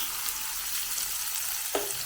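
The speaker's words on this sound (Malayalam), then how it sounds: "ഇതിലേക്ക് നമുക്ക് അരിഞ്ഞ് വെക്കുന്ന സവാള അങ്ങോട്ട് ചേർത്ത് കൊടുക്കാം." Chopped onion frying in hot coconut oil gives a bright, steady hiss of sizzling, close and even, with a brief scrape of stirring near the end.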